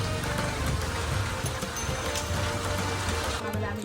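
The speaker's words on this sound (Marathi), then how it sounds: "पाऊस सगळं जायचं नाव नाही" Steady Konkan monsoon rain falls in a dense, even hiss, pattering on a surface with a low rumble underneath throughout.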